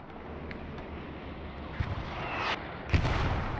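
Distant artillery fire in the World War II shooter Hell Let Loose thuds in over a steady rumbling battlefield bed, with a couple of muffled booms and a sharper blast near the end.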